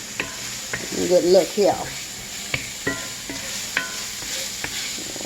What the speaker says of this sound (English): So we're cooking with grease right now.